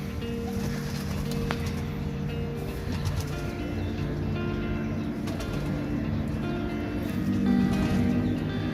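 Fancy Teddy pigeons coo in low, soft, overlapping murmurs, with some rustling and flutter in the background throughout.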